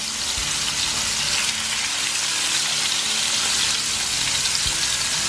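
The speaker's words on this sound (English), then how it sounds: "crappie just went down in the pan" Crappie fish fillets frying in a pan, a loud, steady hiss and crackle of hot oil filling the whole stretch with no speech.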